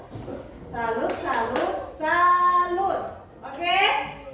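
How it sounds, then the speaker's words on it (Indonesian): A group performing the 'tepuk salut' clapping routine, rhythmic chanted voices punctuated by a few sharp hand claps, close and moderately loud in short bursts. "kita tepuk salut untuk yang bertanya"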